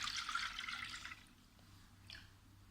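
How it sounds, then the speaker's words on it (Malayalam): Coconut milk poured into a saucepan, a brief close liquid gush lasting about a second that fades to near silence, then one small splash. "തേങ്ങാപ്പാൽ ആദ്യം സോസ് പാനിലേക്ക് ഇടുക."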